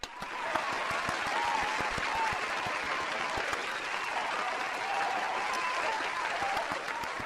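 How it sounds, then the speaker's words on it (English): A crowd applauds in a dense, sustained round of clapping that stays steady for the whole stretch, with no voices rising above it. "can we get a round of applause for the Canadians doing that to themselves?"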